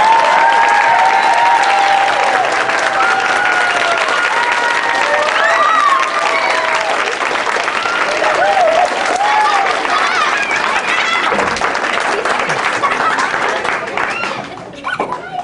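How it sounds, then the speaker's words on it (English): Sustained audience applause fills a school concert hall, dense and loud throughout, with scattered whoops and voices rising from the crowd before thinning slightly near the end. "Would you join me in giving Mrs. Orr a round of applause?"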